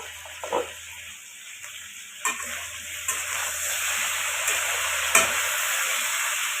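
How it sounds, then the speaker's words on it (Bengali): Bengali shukto is stirred in a sizzling pan, a steady hiss broken by a few sharp scrapes and clinks of the spoon against the pan, close and moderately loud with no talking. "নেড়ে দেব"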